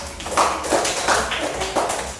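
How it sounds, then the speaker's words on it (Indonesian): Students in a classroom clap for two classmates, a handful of soft, uneven claps spaced across a couple of seconds in a reverberant room. "Tepuk tangan buat mereka berdua."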